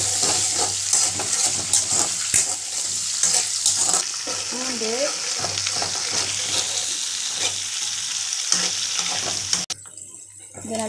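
Ginger, garlic and green chilies sautéing in a pan, a loud close sizzle with repeated stirring scrapes throughout, briefly cut by quieter clatter near the end.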